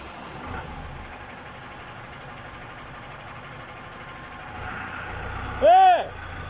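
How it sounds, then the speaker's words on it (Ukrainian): A tractor engine rumbles low and steady in a yard piled with timber, moderately distant beneath people talking, with a short tonal whine rising near the end. "Трактор їде."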